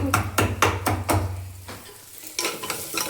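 A knife chops vegetables finely on a board in a home kitchen while cooking. It starts with a quick run of sharp, evenly spaced taps, pauses briefly, then resumes with a few more close, crisp strikes.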